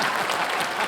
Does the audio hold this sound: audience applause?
yes